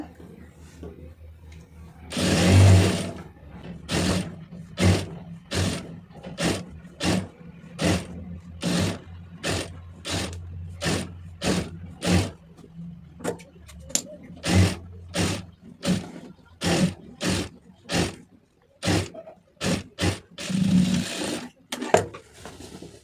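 Sewing machine stitching a lined blouse, running in many short bursts of rapid stitching separated by brief pauses, fairly close, with a couple of louder thumps along the way.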